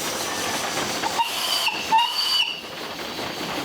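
A steam engine lets off a whistle at a steam show, a hissing tone of about a second over constant steam hiss and the hum of the grounds.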